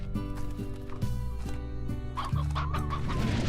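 Chickens in the video game Slime Rancher clucking repeatedly, several short bird calls layered over a constant droning game soundtrack.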